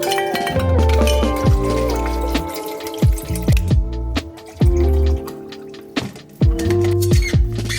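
Water pours into a Stanley water bottle in uneven bursts with gurgles and drips, close and fairly loud, with the flow starting and stopping several times; a brief spoken word is heard.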